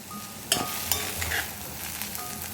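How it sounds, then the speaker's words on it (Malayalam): Cooked lentils stirred in a cast iron pan, giving a soft, steady scraping and faint sizzle with a few sharper utensil clicks against the iron, close and moderately quiet with no talking. "പരിപ്പ് വേവിച്ചതോട് ചേർത്ത് നന്നായിട്ട് നമുക്ക് ഇളക്കിയെടുക്കാം"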